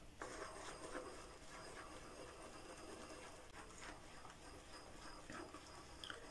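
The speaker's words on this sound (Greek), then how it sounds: "αφρισμός πάρα πολύ γρήγορα" Omega shaving cream being lathered quickly with a shaving brush, a soft steady wet rubbing and swishing that runs continuously and fairly quietly, with no talking.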